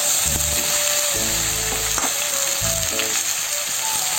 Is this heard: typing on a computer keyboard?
no